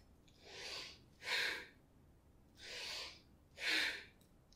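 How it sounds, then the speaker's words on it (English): A young child in a kids yoga class for ages 3 to 5 takes quick breaths, four airy puffs in an alternating rhythm, close and fairly soft with no talking. "How about a fast breath?"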